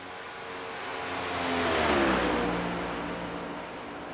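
A race car engine revs in a Friday Cup Series event, one steady drone whose pitch rises and swells to a peak near the middle, then eases back as it fades, with no talk over it.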